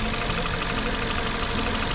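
A vehicle engine runs steadily at idle with a rough, continuous rumble and knock, loud and close throughout.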